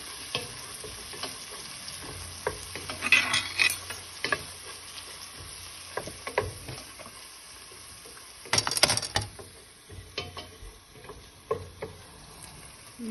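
Sliced onions frying in a pan for an okra and tomato curry: a low continuous sizzle broken by bursts of stirring scrapes and crackles, moderately quiet, no talking.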